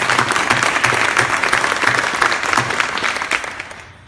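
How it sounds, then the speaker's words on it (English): An audience claps warmly at an awards event for a Hyundai pediatric cancer grant, a dense run of applause that fades away at the end. "So another round of applause"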